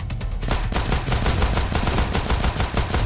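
Rapid bursts of automatic gunfire in GTA San Andreas crackle continuously and loudly, a dense stream of shots with no pause and no voices.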